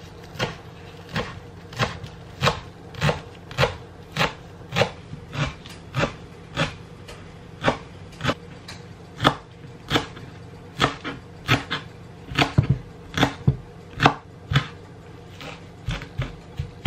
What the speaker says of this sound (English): Here's my curly parsley. I wanna cut this